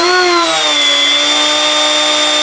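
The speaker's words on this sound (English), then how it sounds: "Let me go ahead and turn this on and I'll show you, because it is a manual spindle." The manual spindle of a Genmitsu 4040-Pro Max CNC router is switched on and settles into a loud, steady, high-pitched electric whine, close and alone.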